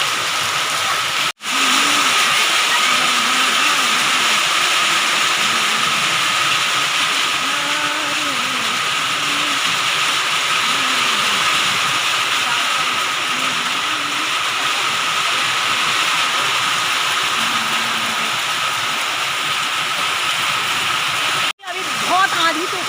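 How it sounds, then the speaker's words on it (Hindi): Heavy rain pours down in the mountains during a storm, a loud, steady hiss that fills the whole scene and drops out briefly near the start and again near the end. Low voices murmur faintly underneath. "आज इतनी तेज से बारिश आ गई है"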